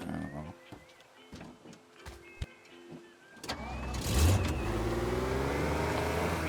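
A car in the Teardown video game starts and revs, scattered game clicks and thumps giving way to a loud, swelling engine roar that holds steady near the end.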